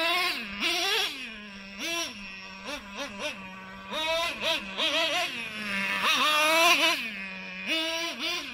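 A small motorbike engine revs hard in repeated bursts during wheelie attempts, its pitch climbing and dropping between throttle blips with short idle gaps, close and fairly loud with no talk.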